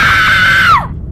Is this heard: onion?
no